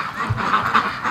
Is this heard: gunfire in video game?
no